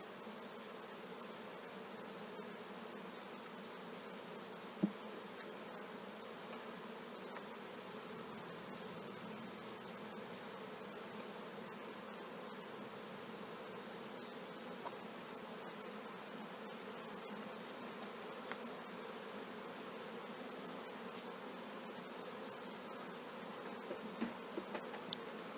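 Honey bees buzz steadily around a honey super being pulled from the hive for extraction, a dense continuous drone of many wings close by throughout, with a few faint knocks and no speech.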